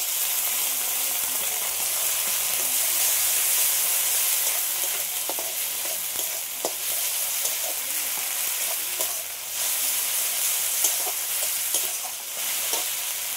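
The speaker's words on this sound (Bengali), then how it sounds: "টমেটোটা ভালো করে গলে গেছে, এবার আমি আদা রসুন বাটাটা দিয়ে দিচ্ছি।" Ginger-garlic paste sizzling loudly in a pan of melted-down tomato while being stirred, a dense crackling fry with scraping stirs and sharp spatters across the whole stretch.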